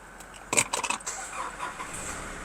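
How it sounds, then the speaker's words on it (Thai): A 2018 Nissan Navara Calibre 2.5 EL pickup with automatic gearbox and smart key starts by push button: a quick cluster of clicks and a cranking burst, then a low, steady idle hum close by. "เหยียบเบรกแล้วกดปุ่มพุสตาร์ทได้เลย"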